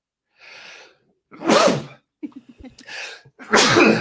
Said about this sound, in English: Every time I do my damn stuff, I start sneezing.